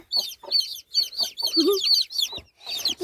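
A small baby chick cheeps, repeating high, sharp peeping calls in quick bursts close by, with a hen's lower clucking in between and a voice talking.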